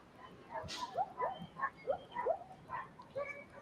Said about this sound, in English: And all the dogs are barking, right?